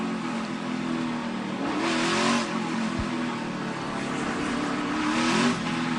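NASCAR race cars at Richmond in the 2019 ToyotaCare 250 revving behind the pace car, a steady loud engine drone with rising and falling revs as cars warm their tires on track.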